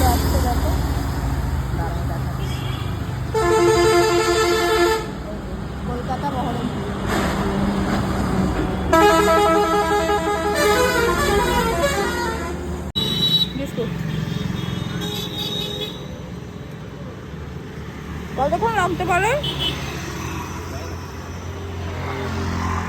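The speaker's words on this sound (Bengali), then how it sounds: "পরপর বাস" Buses pass on a roadside near a tea stall, with several short bursts of horn toots spaced through the clip and engine rumble beneath, while people talk nearby.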